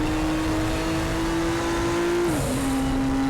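Racing car engines drone loudly and steadily in Raceroom Racing Experience during a touring classics race at Sonoma, with a sustained high engine whine that briefly drops in pitch around a gear change before it climbs again.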